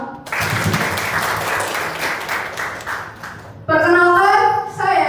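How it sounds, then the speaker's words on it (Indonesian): Seminar audience applauds in a dense, even patter of many hands for roughly three seconds, then a voice begins speaking clearly over the fading claps. "mari kita beri tepuk tangan untuk kita semua"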